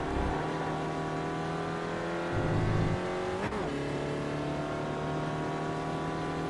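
SRF race car engine in the iRacing sim at Okayama drones steadily with a rising-then-falling pitch, briefly dipping as the driver brakes and downshifts from fourth to second before pulling again.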